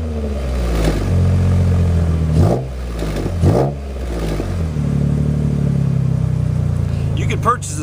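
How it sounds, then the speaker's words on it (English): A 2010 Jeep JK engine fitted with a stainless Magnaflow exhaust rumbles steadily nearby, with two sharp throttle blips that rise and fall before settling back to a deep, loud idle. "Give it some gas there."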